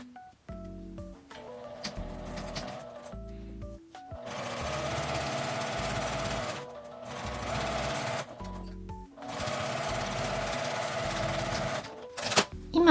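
A sewing machine stitches fabric for a small wallet with a 1 cm seam allowance, starting with a few short taps and then running in two long steady bursts separated by a short pause.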